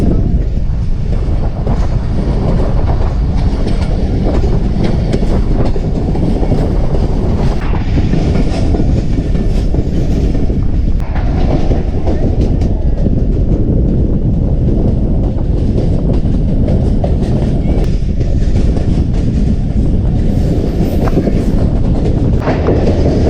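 A train departing Mianwali railway station rumbles and rattles continuously, wheels clacking on the rails, with wind buffeting the microphone throughout.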